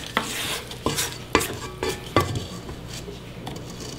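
Cookie dough for chocolate chip bacon cookies churns in a mixing bowl, with repeated sharp knocks and clatters at irregular intervals over a soft rumbling background.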